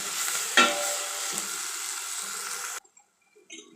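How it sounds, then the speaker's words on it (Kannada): Onion and tomatoes frying in a pan, a sharp sizzle with a stir knock at first, settling into a steady hiss that cuts off suddenly, followed by faint clinks. "ಟೊಮೊಟೊ, 2 ಟೊಮೊಟೊ ಹಣ್ಣು, ಅದು ಅಷ್ಟೇ ಚೆನ್ನಾಗಿ ಫ್ರೈ ಮಾಡ್ಕೊಬೇಕು"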